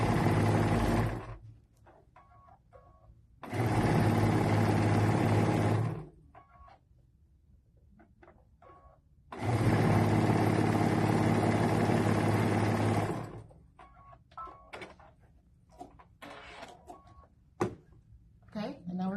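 Sewing machine stitching baby quilt rows together, running in two long steady bursts of whirring close by, with quiet gaps where a voice talks and small clicks and handling noises follow.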